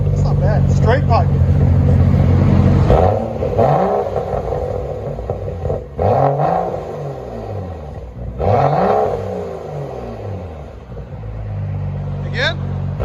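A BMW 525i with a straight-pipe exhaust revs hard and close, several rising and falling blips in a row after a steady idle, with voices talking nearby.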